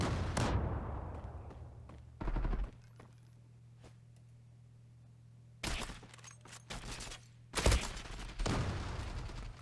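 AWP sniper rifle fire in the online shooter Zula, several loud separate booming shots with sharp onsets and ringing tails, spaced seconds apart over a quiet low hum.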